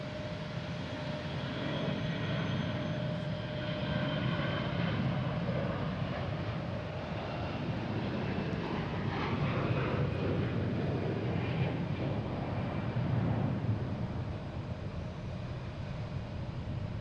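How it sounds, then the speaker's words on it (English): Delta Airbus A321 jet taking off from Boston Logan bound for Atlanta, a sustained loud engine roar that swells gently and holds for the whole stretch, heard alone without talk. "next taking off, we have Delta heading to Atlanta in A321"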